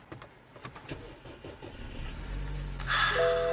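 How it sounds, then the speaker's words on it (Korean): A gasoline BMW 5 Series sedan with four-wheel drive starts up: a few soft clicks and rustles, then the engine catches and settles into a smooth, steady idle hum, close and fairly quiet. "자, 바로 시동부터 한번 걸어보도록 할게요."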